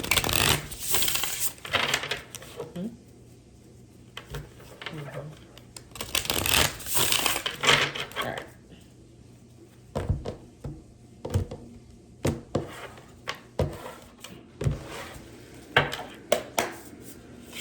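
Repeated bursts of cards being shuffled, crisp riffling flurries separated by short pauses, close and fairly loud.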